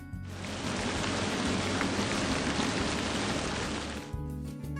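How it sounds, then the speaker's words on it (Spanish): Dense, steady rain hiss fades in, holds for a few seconds, then cuts away abruptly, leaving a low hum. "efectos de sonido que queramos reproducir en bucle, como por ejemplo un efecto de lluvia"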